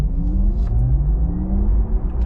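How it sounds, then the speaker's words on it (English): A Porsche Taycan 4S electric car's Sport sound: a deep, rumbling synthetic motor drone hums steadily close by, its tones gliding up and down as the car accelerates, with no talking. "Nice noise as well, so it's got Porsche Sport sound"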